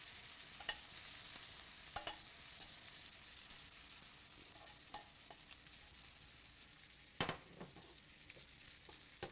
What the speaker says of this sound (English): I'm going to add a couple spoonfuls of our pesto to the pan. Give our shrimp a toss.